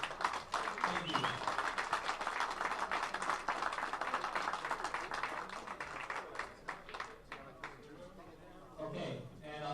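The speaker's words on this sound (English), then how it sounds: "Let's give the players a big round of applause" A crowd at a professional pool tournament final applauds the players with dense, sustained clapping that fades over the last few seconds, while someone speaks over it on a microphone.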